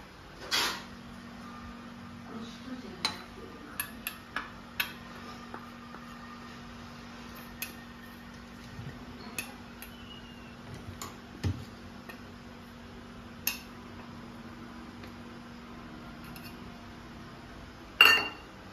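A spoon mixes flour for a cake in a bowl, giving sparse light clinks and taps scattered irregularly over a quiet background, with a steady low hum running underneath and a louder clatter near the end.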